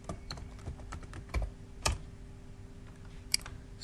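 Typing on a computer keyboard while working in Microsoft Excel: a few scattered, fairly quiet key clicks and one sharper tap, with no talking.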